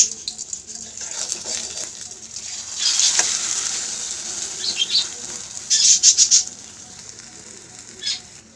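Eggs frying in a pan, a steady broadband sizzle with brief louder crackling bursts and spatters, close and moderately loud, with no talking.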